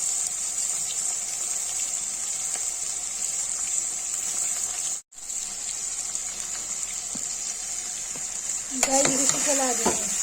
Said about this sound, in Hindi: ये तेल गरम हो गया है, इसमें डालेंगे न्यूट्री।